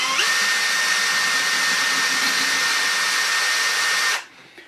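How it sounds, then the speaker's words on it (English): An electric drill spins a short piece of threaded rod to turn a small worm gear, giving a steady, loud, high whirring drone that cuts off abruptly near the end. "put it in the drill"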